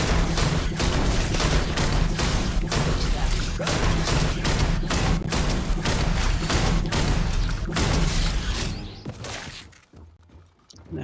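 Sustained gunfire in Starfield with a harder combat mod, dense rapid blasts and thumping impacts pounding loudly for several seconds, then trailing off into scattered quieter shots with a voice faintly underneath.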